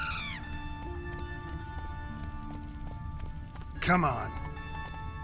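Horse galloping in The Witcher 3, a steady rhythmic clip-clop of hooves running under game music, with a brief loud whinny-like burst near the end and someone speaking briefly.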